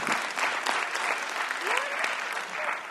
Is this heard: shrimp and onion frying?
no